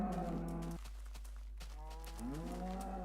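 Cows in a mushroom biome of a Minecraft-style game low in drawn-out moos, one near the start and another rising call near the end, with a steady hum underneath.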